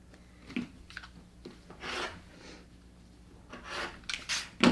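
Rotary cutter slicing along a ruler to trim a quilt block, heard as several short dry rasping strokes, one sharp and loud near the end, with quiet pauses between and no talking.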